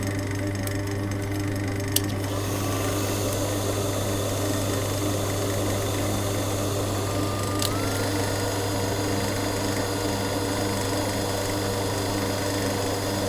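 A machine spinning a workpiece at its slowest speed during a high-gloss finishing job, a steady continuous motor hum with a low tonal drone, close and unbroken, with a couple of faint clicks.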